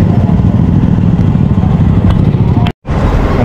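Busy village street traffic during a barangay fiesta in Lagyos, with steady motorcycle and car engines rumbling close by, a brief clatter, and a short dropout near the end.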